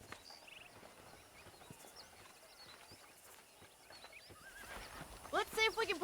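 Horses in the Red Dead Redemption western video game, with soft hoof clip-clops and rustling that build to a loud, close neigh near the end, over a quiet outdoor background.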